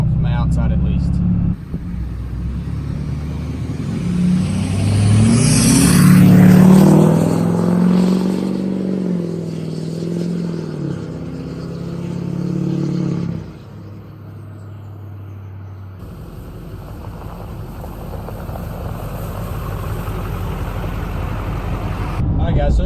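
A Duramax diesel truck engine is revved from outside. It climbs to a loud, swelling roar, then settles back to a rough idle. People talk over it.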